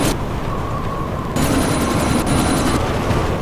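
Helicopter in the video game Deus Ex: Mankind Divided during a Dubai sandstorm mission, a loud, continuous rotor and engine roar with a sharp tonal whine layered in partway through.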